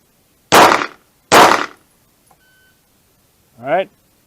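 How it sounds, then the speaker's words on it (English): Two sharp pistol shots fired one-handed at a head target on a timer signal, about a second apart, loud and close, followed later by a brief voice. "on the signal we will fire 2 rounds to the head in 3 seconds"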